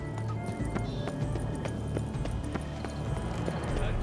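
Steady clip-clop of horse hooves at a trot with a whinny early on, in The Witcher 3: Blood and Wine, with faint background music.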